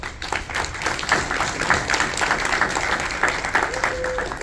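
A crowd at a San Diego Comic-Con panel claps in a lively round of applause, with individual claps clearly audible and scattered voices mixed in.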